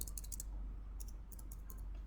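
Keys clicking on a computer keyboard as a web address is typed into a browser address bar, in two quick bursts of taps over a steady low hum, fairly faint.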